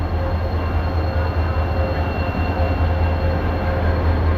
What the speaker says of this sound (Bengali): আমাদের ট্রেন প্রবেশ করছে হাওড়া স্টেশনের 19 নম্বর প্ল্যাটফর্মে